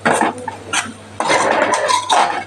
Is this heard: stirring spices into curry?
yes